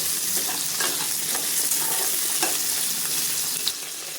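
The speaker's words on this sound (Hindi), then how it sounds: "आलू गोभी भून गए हैं" Potatoes and cauliflower frying in a pan over a medium-high flame, a loud steady sizzle throughout with a few soft stirring scrapes, close by, no talking.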